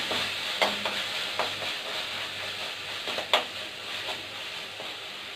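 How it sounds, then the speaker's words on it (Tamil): Chopped tomatoes sauté in a pan for karuvadu kuzhambu, a soft steady sizzle with occasional scrapes and taps of a spoon stirring, close and moderately quiet. "இப்போ தக்காளி சேர்த்துக்கலாம். தக்காளி நல்லா வதங்கணும்."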